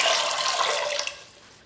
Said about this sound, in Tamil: கொண்ட கடலை முழுகிற அளவுக்கு தண்ணி ஊற்றினா போதும்